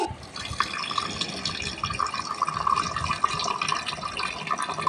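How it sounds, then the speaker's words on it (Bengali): Tap water runs steadily into a sink while Malabar spinach and fish roe are washed, a continuous close splashing and trickling stream with small drips and clatters throughout. "এবার আমি পুঁই শাকটা ধুয়ে নেব আর মাছের ডিমটা"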